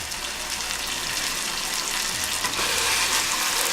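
Plantain fries in a pan with a dense, steady sizzle and crackle, close and constant throughout, with a faint scrape near the end and no talk.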